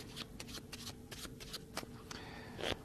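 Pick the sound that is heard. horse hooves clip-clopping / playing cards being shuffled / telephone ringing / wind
playing cards being shuffled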